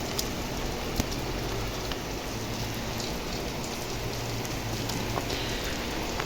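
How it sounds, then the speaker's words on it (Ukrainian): Steady rain pattering on a surface, a continuous even hiss with occasional louder drops, with no voices. "У нас сьогодні дощик."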